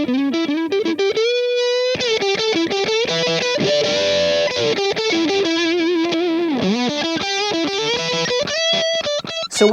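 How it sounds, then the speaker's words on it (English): A Harley Benton The Heat high-gain distortion pedal, verging on fuzz, drives an electric guitar playing chugging riffs and sustained notes, loud and saturated, with no voices. "this is a distortion pedal that verges on fuzz."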